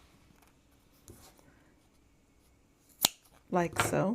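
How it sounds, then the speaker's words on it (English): Scissors cut once, sharp and close, between doubled foam squares for a winged dome birthday card, after a quiet stretch; a voice speaks just afterward. "I'm going to double them up. And that way then I can cut between them"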